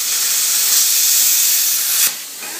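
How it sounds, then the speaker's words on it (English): Plasma cutter cutting a tractor loader pin on a 1370 tractor, a loud steady hissing roar for about two seconds that cuts off abruptly, leaving a quieter hiss. "I think I'm just going to take the plasma cutter to it now."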